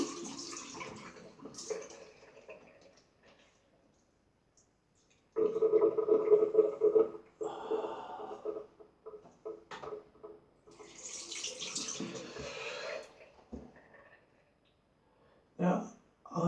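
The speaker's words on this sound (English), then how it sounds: "Now I'm going to drain my sink." Water drains and gurgles from a bathroom sink at close range in bursts, with quieter stretches and a few clinks in between.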